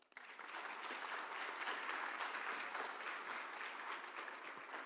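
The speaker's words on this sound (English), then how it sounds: "A big round of applause." An award ceremony audience breaks into applause, a dense, even clatter of many hands that swells quickly after a sharp start and holds steady for several seconds.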